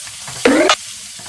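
Sous vide ribeye steak searing in a hot pan, a sudden loud burst of sizzling that lasts about a third of a second before dropping back to a quiet background.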